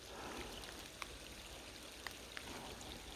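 Steady soft rain falls outdoors at a reservoir during a bass fishing outing, a faint continuous patter with a few isolated drops ticking through.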